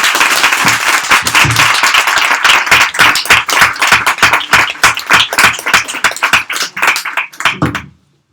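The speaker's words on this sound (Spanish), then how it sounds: "recibamos con el aplauso que se merecen a estas dos grandes" An audience claps for two authors, Nuria Barrios and Clara Obligado, at a book presentation: brisk, close, distinct claps in a dense stream that thins into scattered claps before stopping abruptly.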